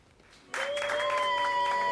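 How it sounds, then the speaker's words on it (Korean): A family applauds medical staff in Britain during the evening clapping ritual, with sudden close clapping breaking out over a faint background tone and continuing steadily. "영국에서는 코로나19와 사투를 벌이는 의료진들을 위해서 저녁에 온 국민이 박수치는 관행이"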